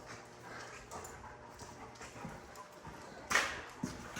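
A dog moving about and sniffing at a newly bought mill property, with soft scuffling steps and faint snuffling under low background noise, a sharper knock near the end.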